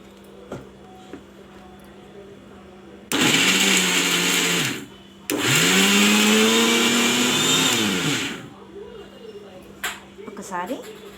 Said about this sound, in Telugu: ఇప్పుడు దీన్ని మిక్సీ తిప్పుకుందాం.